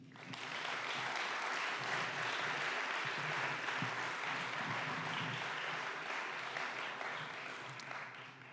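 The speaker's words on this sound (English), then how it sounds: "can we give a round for Greg Salmon?" Sustained audience applause at a 2024 upper school academic awards ceremony, a dense steady clapping from a large crowd in a hall that lasts several seconds before tapering slightly.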